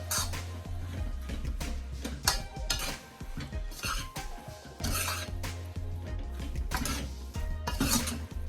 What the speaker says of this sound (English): I'm just gonna mix this around